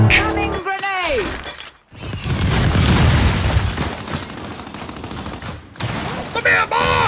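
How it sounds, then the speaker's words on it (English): Grenade blast and gunfire from Gears of War 5 multiplayer, a loud sustained roar of explosion and shooting filling most of the clip, with game voices shouting over it near the start and end. "Incoming grenade!"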